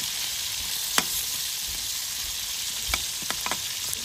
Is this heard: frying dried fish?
yes